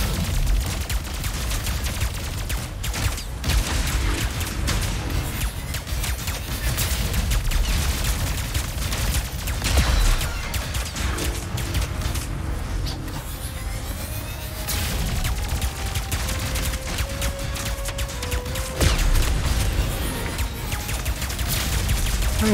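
Rapid gunfire from a weapon in Ratchet & Clank: Rift Apart, heard as a loud, dense, continuous barrage of shots with explosions and game effects layered over it across the whole stretch, with no voices.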